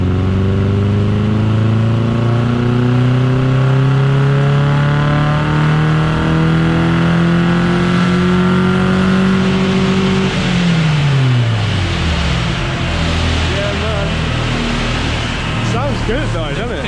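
A VW Lupo engine revs hard on a dyno, its pitch climbing steadily through a long pull before dropping sharply as the throttle comes off, loud and close with voices talking over it.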